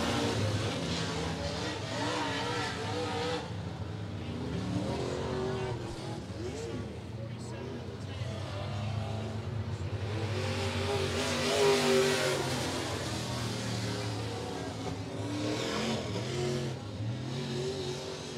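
Race cars roaring around an oval dirt track during a heat race at Monett Motor Speedway, engines droning and rising at mid distance while a track announcer talks over the noise.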